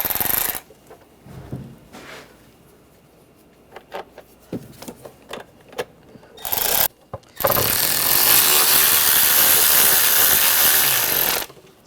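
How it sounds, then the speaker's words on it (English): Screws are driven into the intake manifold of a 2009-2013 BMW 328i xDrive with its 3.0L inline-six: scattered ratcheting clicks and small metallic taps, then a loud, continuous rushing burst lasting about four seconds. "And get the screws started."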